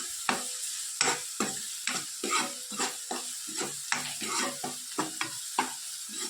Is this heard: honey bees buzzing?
no